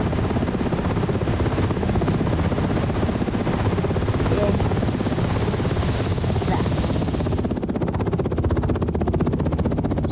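Helicopter in the Roblox game Oil Warfare Tycoon firing its weapons, rapid continuous gunfire bursts over a steady rotor drone, loud and close throughout with little pause.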